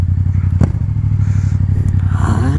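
A Yamaha MT-07 motorcycle is ridden on the road, its engine droning steadily and close up with a brief thump near the start, while wind and road noise fill in behind; no one speaks.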